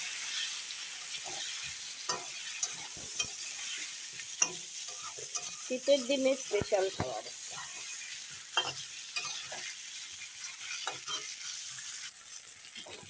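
Spices with salt and turmeric fry quietly in oil, with a soft sizzle beneath frequent spatula scrapes and taps on the pan, clustered near the middle, and a voice speaks briefly.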